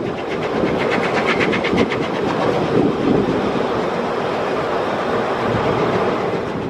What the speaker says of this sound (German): fährt der Zug schließlich in den Endbahnhof Kurort Kipsdorf